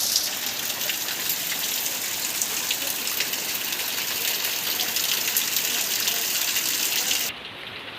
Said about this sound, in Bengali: পুরো বৃষ্টি পড়ছে